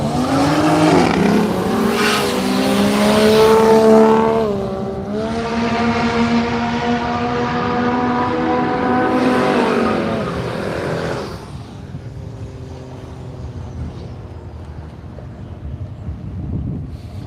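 Two late-model drag racing cars launching down the strip at Willowbank Raceway, a loud roaring engine howl with rising pitch that holds for about eleven seconds, then cuts to faint crowd and wind noise.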